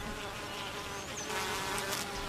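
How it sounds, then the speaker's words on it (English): Worker honeybees buzz inside a hive, a dense continuous drone of many wings at moderate level, steady throughout with no voices. "The worker bees are all females, but they almost never lay eggs. Worker bees do almost all the chores in the hive."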